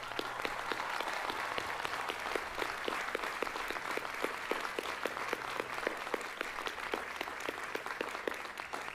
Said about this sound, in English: join me in an enthusiastic round of applause for all of those who have supported you